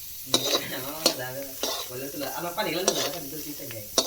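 Two onions drop into hot oil in a pot and fry with a crackling sizzle, while a spoon stirs and scrapes against the metal in sharp repeated strokes close by during home cooking.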